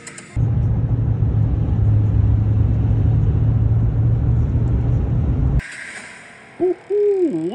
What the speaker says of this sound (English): I'm pressing on the gas.